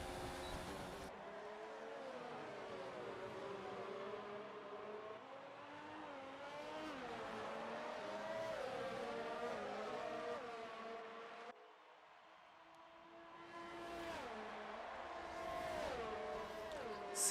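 Racing engines from F1 2019 cars running wheel to wheel at the Mexican Grand Prix, a steady loud whine of revving and shifting pitch that rises and falls through gear changes across the whole stretch, with a brief dip near the end.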